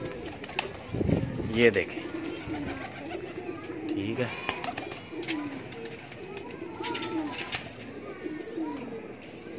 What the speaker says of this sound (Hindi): सब के सब आउट क्लास कबूतर है